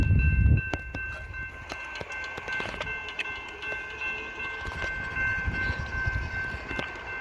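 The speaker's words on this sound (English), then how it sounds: "We're going to catch Norfolk Southern 13R here at Shenandoah Junction." A Norfolk Southern 13R freight train with a nine-locomotive lashup passes Shenandoah Junction: steady rolling rumble, rhythmic wheel clacks over the rail joints, and a sustained high squeal, fairly close and loud without talk.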